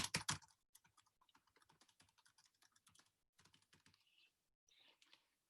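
Computer keyboard being typed on nearby, a burst of loud clicks followed by quick, irregular soft keystrokes with small pauses, faint and alone without speech.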